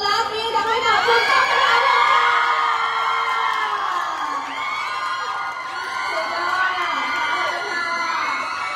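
Live audience at a Thai clinic's live show cheering and shouting, a loud sustained crowd roar with whoops and children's yells, swelling and easing across the whole stretch.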